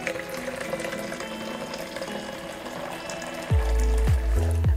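Hot water pours to dissolve 50 grams of powder, heard as a faint watery trickle that turns into a loud, full, gurgling stream for the final second or so.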